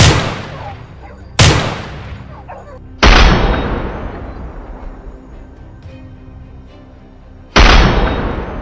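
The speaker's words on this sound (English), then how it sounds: "The gunfire spooked the boars, driving them toward the adjacent forest, but Thomas had anticipated this." Four loud gunshots from a hunter's gun during a boar hunt, each a sharp near blast with a long decaying echo, spaced irregularly a second or more apart.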